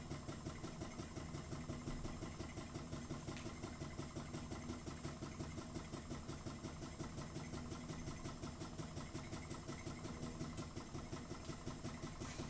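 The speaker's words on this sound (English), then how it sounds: "So we've got a Stirling energy generator here right now." Ringbom Stirling engine generator running continuously, a steady rapid mechanical pulsing hum that stays even and close throughout with no talk over it.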